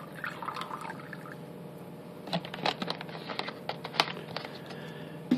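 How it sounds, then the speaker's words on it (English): Aquafina bottled water poured into a container, a soft trickling and splashing stream with small drips, fairly quiet and close. "here we have Aquafina, the number one selling water, made by Pepsi. I'll pour that in here"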